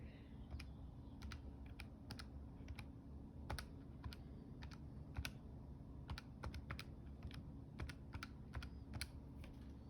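Typing on a computer keyboard during a math lecture, a steady run of quick light key clicks at low volume over a soft background hiss, with no talking.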